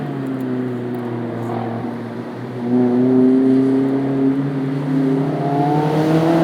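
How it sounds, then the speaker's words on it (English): A Mazda MX-5 Miata four-cylinder engine running on E85 drones and revs from inside the cabin, its pitch climbing steadily with a steady rumbling whine. "Angry little 4-popper."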